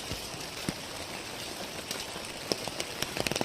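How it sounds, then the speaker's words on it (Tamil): Heavy rain falling in Nagercoil, a constant wash of drops on surfaces with sharper nearby splashes and drips picking up toward the end. "இப்போ மழையான மழை"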